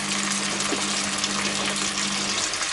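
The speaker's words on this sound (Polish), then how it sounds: "No i teraz dodajemy sobie trochę wody." Water poured into a pan of frying chicken thighs, a loud steady rushing hiss and gush, continuous and close, with no talk.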